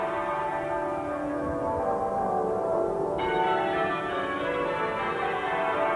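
Westminster Abbey's bells ringing during Princess Diana's 1997 funeral, a dense, continuous peal of church bells that sounds steady and full, with no voices over it.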